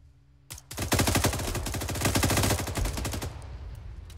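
Automatic gunfire in the military game Arma 3: a single opening shot, then a sustained rapid machine-gun burst of evenly spaced loud reports for nearly three seconds, trailing off into a fading echo.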